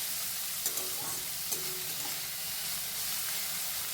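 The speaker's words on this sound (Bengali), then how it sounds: "পেঁয়াজটা ভাজা হয়ে গেছে এবার আমি ক্যাপসিকামগুলো দিয়ে দিচ্ছি" Capsicum and onion are stir-fried in a wok, with a steady hissing sizzle broken by a couple of sharp spatula knocks against the pan, close-up and without speech.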